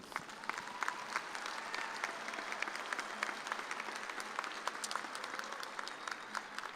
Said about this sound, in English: You can clap if you want to, that's all right.